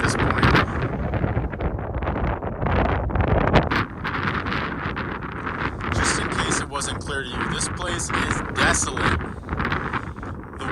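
Strong desert wind at an eroded railroad ghost town site, roaring and buffeting the microphone in loud continuous gusts that fill the whole clip.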